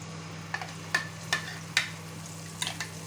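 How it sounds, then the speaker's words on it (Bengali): Ground green pea paste dropped into hot ghee with a bay leaf, giving a few short sizzling bursts and scrapes over a steady low kitchen hum, close and fairly quiet. "2 চামচ ঘি দিচ্ছি, তেজপাতা দিলাম, মটরশুঁটি বাটাটা দিয়ে দিচ্ছি"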